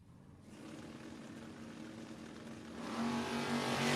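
At a no-box drag racing shootout, a long-roof Malibu wagon and an Oldsmobile race, engine roar rising steadily and swelling louder toward the end as the cars accelerate, with no talk.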